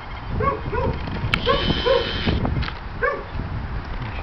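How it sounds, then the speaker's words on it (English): A dog barks in a loose series of about five short barks, some in quick pairs, with brief pauses between them, heard fairly close. "Barking at Jimmy"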